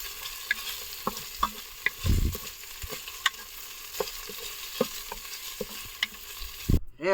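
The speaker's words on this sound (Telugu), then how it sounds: "అవన్నీ వేపుతాడు ఇప్పుడు." Fish frying in a pan for Bengali fish curry, with faint steady sizzling broken by scattered stirring clinks and scrapes and a louder thud or two, with nobody talking.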